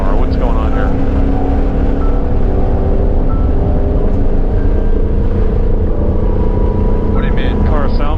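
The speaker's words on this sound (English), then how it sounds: "Car sounds weird. I have no power." A loud, steady engine drone from a 2020-2022 Shelby GT500 losing power on a track, with a strained, uneven tone throughout and a voice speaking faintly underneath.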